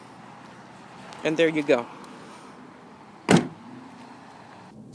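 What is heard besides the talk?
trunk of a 2015 Ford Fusion SE opening at a button press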